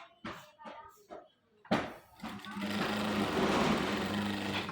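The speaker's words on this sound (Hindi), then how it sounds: "ये देखें, इस तरह सिलाई लगा लें।" A sewing machine stitches a fabric strip, starting after a few brief sounds and then running in a steady, close, continuous whir with a rapid mechanical rhythm.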